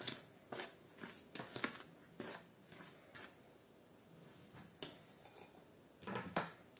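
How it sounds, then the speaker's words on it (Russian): Scraping and clinking of a utensil against a bowl while stirring dry ingredients including sugar, in irregular bursts, with quiet pauses between strokes; no talking. "И размешаем все сухие ингредиенты."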